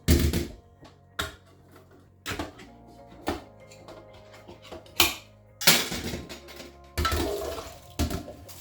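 African breadfruit (ukwa) goes into a cooking pot with a series of sharp, close clunks and splashy bursts, spaced irregularly with quieter gaps between.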